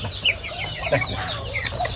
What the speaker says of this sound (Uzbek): Mana to'chmay xo'roz ham miramir. Ha, xo'roz.